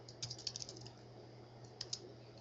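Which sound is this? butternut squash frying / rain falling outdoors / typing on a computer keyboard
typing on a computer keyboard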